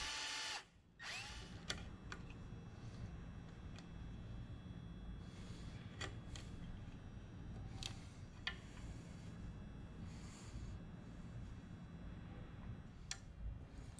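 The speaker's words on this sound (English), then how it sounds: "I use a Forstner bit to create a pocket for the fasteners that will attach the top." A Forstner bit bores a pocket into a wooden tabletop. A faint, steady drilling whir carries on throughout, broken by a few light ticks and clicks.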